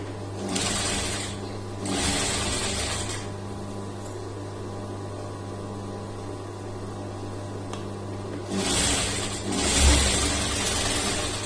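A sewing machine stitches the shoulder seams of a lined blouse in short bursts of rapid mechanical whirring, separated by quieter stretches where a low motor hum continues, close and fairly loud.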